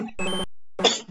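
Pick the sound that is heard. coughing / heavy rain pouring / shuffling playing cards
coughing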